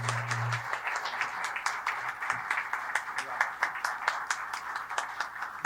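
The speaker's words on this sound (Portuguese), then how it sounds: "pedindo uma salva de palmas ao cônsul Rui Almeida" At an official Portugal Day ceremony, guests applaud the consul Rui Almeida and his wife. Steady, moderately dense clapping continues throughout, with a low hum and faint murmuring voices beneath it.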